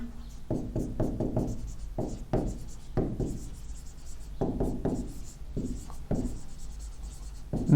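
Chalk or marker scratches across a lecture board in quick strokes and taps, a busy run of short scribbles close by with no voices.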